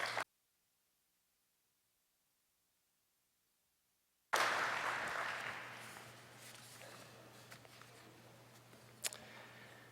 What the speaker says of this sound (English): Would you please join me in giving these sponsors a round of applause?